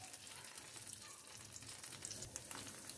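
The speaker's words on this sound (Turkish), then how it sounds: "Salçalarımızı kavuralım" Tomato paste and pepper paste sautéing in a spoonful of oil, a faint, steady low sizzle with a small clack at the very end.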